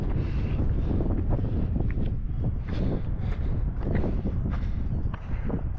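Strong, steady wind roars and buffets the microphone on a high mountain trail near glaciers during the Eiger Ultra Trail, a dense continuous low rumble with gusty swells throughout and no talking.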